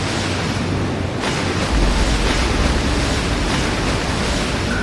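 Loud, continuous roar of rushing river water churned into white waves as a herd plunges into a fierce current on the savannah, a dense surf-like wash with windy rumble and no voices.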